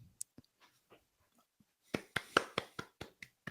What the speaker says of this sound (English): I guess a little clap for Tanner Houck.